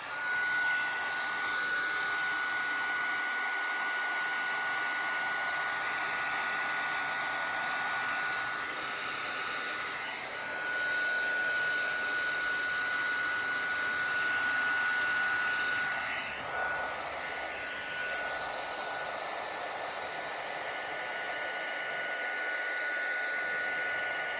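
A heat tool used for card making blows hot air in a steady, continuous whooshing hiss with a thin whine, holding at a moderate level with slight swells, with no talk.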